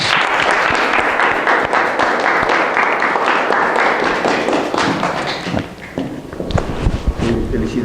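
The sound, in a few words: audience applause at thesis ceremony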